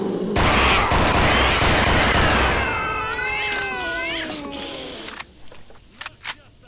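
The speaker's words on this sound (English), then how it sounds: "They were fucking sentient cats." Cats meow and screech in STALKER: Shadow of Chernobyl, several loud, wavering cries overlapping and climbing in pitch, then fading into scattered clicks and brief knocks near the end.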